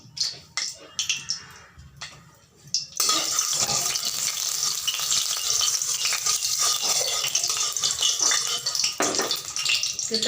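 Oil is poured into a hot wok for tadka dal, giving a few soft clinks and then a sudden, steady loud hiss and sizzle that carries on close up for several seconds.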